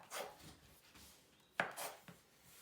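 A knife cuts Scottish shortbread dough into squares, giving a few soft, faint scraping strokes spread over a couple of seconds with nobody talking.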